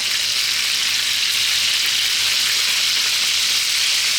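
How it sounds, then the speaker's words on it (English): Lamb loins fry in a hot pan with a loud, dense, unbroken sizzle close up, steady throughout with no voices. "kind of just frying them, getting some lovely colour on them"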